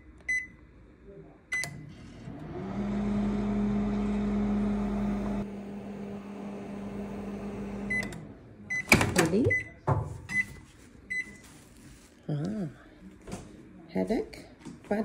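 A microwave oven hums steadily for several seconds with a low drone, then stops; clicks, beeps and brief talking follow around it.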